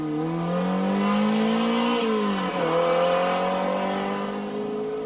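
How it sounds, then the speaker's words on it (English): A Ferrari 308 GTB race car accelerates hard away from the starting line toward the first hairpin, its loud, close engine climbing steadily in pitch, with a brief dip and recovery at a gear change midway. "Away from the line, and then it's the hard acceleration up towards the first hairpin."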